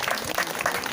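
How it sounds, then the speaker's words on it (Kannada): Loud applause from a workshop audience of school cooking staff, a brief dense burst of many hands clapping at close range. "ಜೋರಾದ ಚಪ್ಪಾಳೆ."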